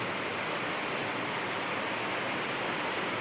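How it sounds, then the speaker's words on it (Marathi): Steady rain falls in the Konkan region, a dense even hiss of water on surfaces with no breaks, fairly soft and continuous, with no voices. "असं आत्ताचा आजचा पाऊस आहे हा"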